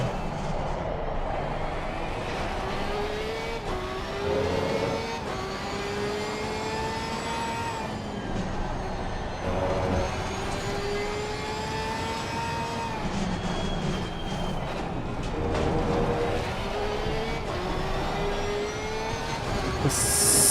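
A Mustang race car's engine drones continuously in the Assetto Corsa Competizione racing game at Snetterton, with pitch rising through each gear and dropping at the shifts, under a steady rumble of road and tyre noise and no speech.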